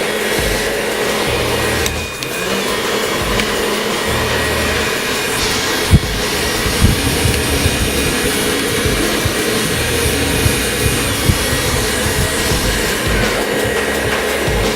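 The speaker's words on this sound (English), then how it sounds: "use the airflow to push hair where we want it to go" A hair dryer blows air onto hair during a haircut, giving a loud, continuous whooshing roar that runs steadily from start to finish with a few faint clicks.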